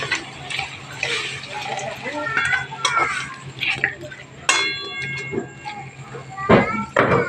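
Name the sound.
mixing ingredients for chicken soup in a pot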